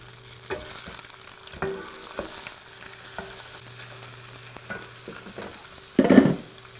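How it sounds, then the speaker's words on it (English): Lamb knuckles fry in a pan as they are turned over, a low, quiet sizzle with scattered clicks and tong taps, then a brief louder burst of spitting near the end; no voices. "I'm just going to flip them over, and as you can see they're getting nice and brown"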